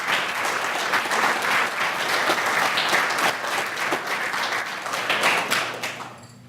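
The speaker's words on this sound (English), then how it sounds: "So give another round of applause." A crowd at an Odd Fellows awards banquet applauds steadily and loudly for about six seconds, dense clapping that tapers off at the very end.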